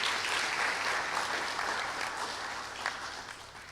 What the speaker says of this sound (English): can give yourself a round of applause.